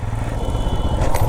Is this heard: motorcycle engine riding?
yes